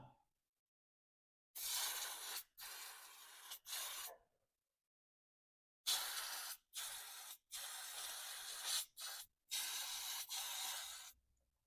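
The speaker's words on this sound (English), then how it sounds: "Right, I'll just give it a bit of a spray out." Carb cleaner hissing from an aerosol can onto a Massey Ferguson 35 tractor, in a series of steady bursts lasting one to two seconds each, with short pauses between, close and crisp in an otherwise quiet space.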